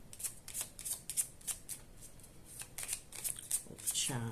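A Gypsy tarot (baralho cigano) card deck is shuffled in quick, repeated crisp bursts of riffling, close and fairly quiet, with a voice starting just at the end.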